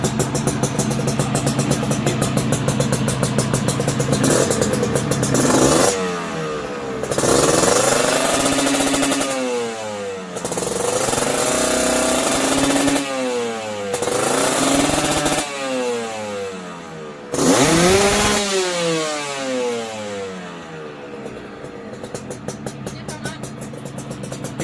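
A standard Kawasaki Ninja two-stroke motorcycle from 2004 screams on a dyno, running through several loud, rising rev sweeps with short drops between pulls, close and dominant with no talk.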